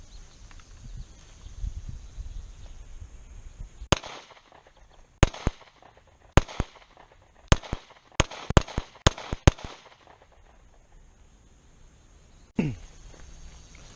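A Hi-Point C-9 9mm pistol fires a string of sharp, loud gunshots, spaced unevenly with a longer pause near the middle, followed after a gap by one more isolated shot.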